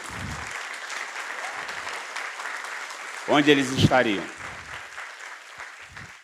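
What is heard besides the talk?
congregation applauding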